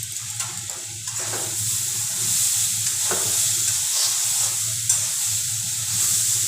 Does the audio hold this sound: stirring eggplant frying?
yes